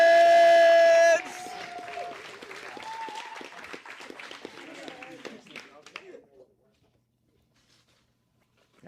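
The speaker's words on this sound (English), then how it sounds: "Round of applause to the amazing athletes qualifying for the championships" Spectators at a 13U youth sectional competition clap for qualifying athletes, scattered applause that follows a brief loud tone at the start, thins out and fades to silence after about six seconds.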